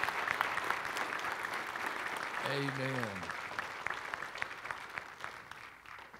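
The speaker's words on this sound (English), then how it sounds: "Another round of applause." Sustained audience applause fills a church hall after a children's Christmas musical, steady and dense throughout, with a single brief spoken word rising above it midway.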